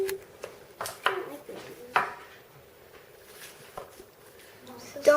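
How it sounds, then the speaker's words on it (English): A knife chops potatoes, carrots and onions on a board in a home kitchen: a handful of sharp, close, separate cuts spaced a second or so apart, with a voice talking in the background. "I'm cutting the potatoes. I'm cutting the carrots. And I'm cutting the onions."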